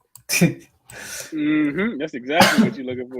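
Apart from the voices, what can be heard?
sneeze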